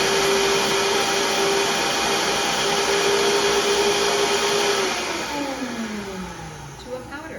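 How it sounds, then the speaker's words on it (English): A kitchen blender pulverizes oats with half a teaspoon of cinnamon into powder, a loud steady whirring motor that drops in pitch and winds down toward the end. "Just put that in the blender and let her roll so that everything is pulverized."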